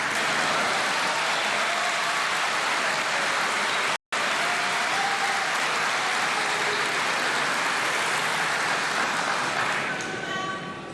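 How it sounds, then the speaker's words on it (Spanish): Sustained loud applause fills a large hall during Javier Milei's speech at the 2024 opening of Argentina's ordinary congressional sessions, a dense continuous clapping roar that briefly cuts out and then tapers slightly near the end. "Por si no se escuchó por los aplausos"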